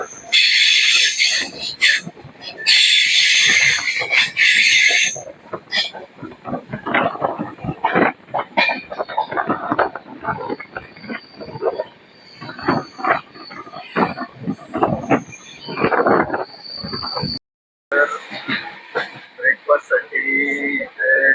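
Mumbai LTT–Haridwar AC superfast express running behind a Kalyan-shed locomotive: steady close rumble and rattle of the moving train, with a sharp high whine over the first five seconds and a brief dropout near the end.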